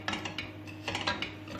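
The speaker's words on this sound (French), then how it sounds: "On mélange le riz à l'huile d'olive." A spoon stirs rice coated in olive oil inside a pot, giving light, repeated metallic scrapes and clinks in an irregular rhythm, close and fairly quiet with no talking.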